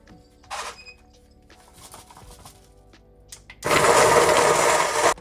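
Soya chunks and cumin are dropped into a kitchen grinder with some clattering and handling, then the grinder starts up loudly with a dense whirring roar that runs for the last second and a half.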